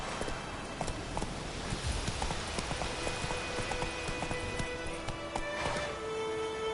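Hooves of the horse Roach clip-clop steadily at a gallop in the video game The Witcher 3, a busy rhythmic patter over a dense backdrop of game ambience.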